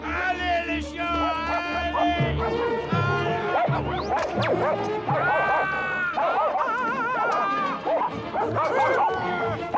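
Dogs bark, yip and whimper in an animated fox fable, a frantic run of close, overlapping barks mixed with crashes and thwacks, while voices shout over the commotion throughout.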